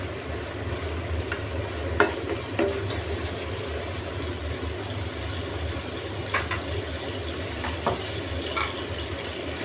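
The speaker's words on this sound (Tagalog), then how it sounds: "Haluin ko lang hanggang sa mag-dissolve yung ating Maggi cubes." Chicken bouillon cubes being stirred in a hot pan for pancit canton guisado: a low, steady sizzle with a few sharp spoon scrapes against the pan.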